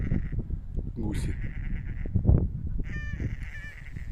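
Several nasal, bleating honks from passing wild geese ring out over outdoor rumble at a Komi goose hunt, with a cluster of clearer calls near the end.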